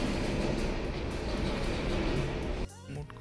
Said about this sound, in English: You can hear the subway.